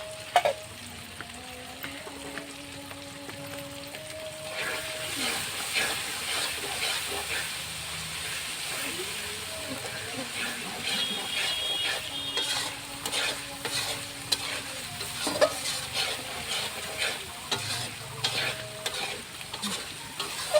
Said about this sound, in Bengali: এটা সুন্দর করে কষাতে হবে।